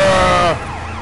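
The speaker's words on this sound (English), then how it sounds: "you're hearing this siren?" A loud video-game emergency siren from Sleeping Dogs wails close by, its tone sweeping before abruptly dropping in level partway through.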